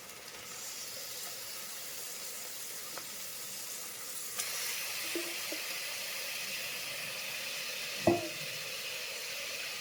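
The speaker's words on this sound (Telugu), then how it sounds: "ఆనియన్, టమాటో వేగిన తర్వాత 1/2 కిలో మటన్ని వేసేద్దాం." Half a kilo of mutton hits fried onion and tomato in a pan, giving a steady low sizzle and hiss throughout, with a few faint clinks and one sharp knock near the end.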